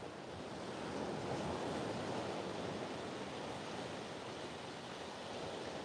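Ocean waves break on a shallow shore where surfers ride, a steady, distant roar of surf and wash with light wind, no voices.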